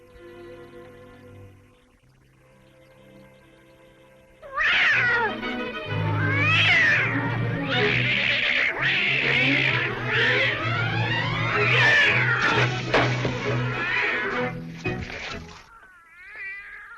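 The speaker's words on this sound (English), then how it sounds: "What on earth ails that cat?" A cat yowls and caterwauls in a 1938 film, a loud run of long, wavering, rising and falling cries close up, preceded by a quieter low-toned passage.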